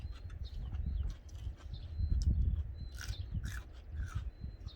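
Close, quiet chewing of a crunchy vegetable, irregular bites and crunches with soft bird chirps in the background.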